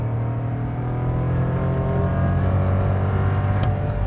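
A Volkswagen Nivus Comfortline 200 TSI running on ethanol pulls hard at full throttle, its engine droning loud and steady from inside the cabin.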